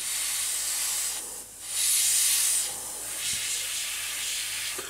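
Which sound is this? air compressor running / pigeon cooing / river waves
air compressor running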